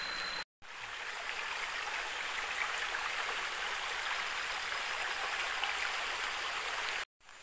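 A fast-flowing river stream in Kampar, Riau, rushes continuously with a dense hissing wash of water, steady and close, briefly cut out twice, no talking.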